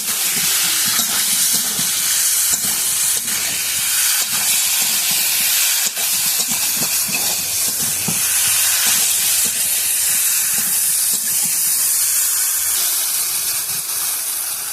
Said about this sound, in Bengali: এবার ভেজে রাখা আলু আর খামটা দিয়ে দেবো ভালো করে কষে নেব